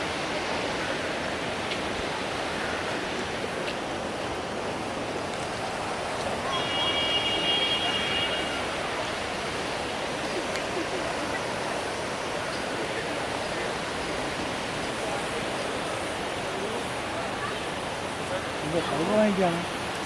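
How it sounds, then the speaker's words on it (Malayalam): The Lidder, a snowmelt river in Betaab Valley near Pahalgam, rushes as a steady broad roar of flowing water that fills the whole stretch, with a person talking over it. "ഇതാണ് ലിഡർ നദി ലിഡർ നദിയുടെ സൈഡിൽ കൂടെയാണ് നമ്മൾ നടന്നു പോകുന്നത് ഇത് മഞ്ഞുരുകി വരുന്ന നദിയാണ്"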